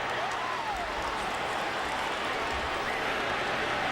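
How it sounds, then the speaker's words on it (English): A sellout football crowd at a 2006 Louisville at Rutgers game lets out a loud, sustained roar that fills the whole stretch evenly, with no single voice standing out. "And a huge gasp from this sellout crowd"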